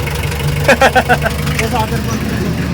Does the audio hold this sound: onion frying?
no